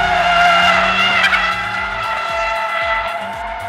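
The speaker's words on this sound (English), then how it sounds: "play with the steering wheel to keep the slide going" A 2022 Audi RS 3 sliding with its tires squealing, a loud, sustained high-pitched screech over the strained engine drone, close up and unbroken for the whole stretch, with no talking.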